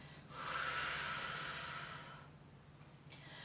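A single long exhale through the nose during a gentle yoga twist, a soft breathy rush lasting about two seconds over a quiet room hum.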